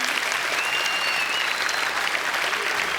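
Enthusiastic audience applause fills the room at the 2013 Australian Surfing Awards ceremony, dense, steady clapping from a large crowd, close and loud throughout.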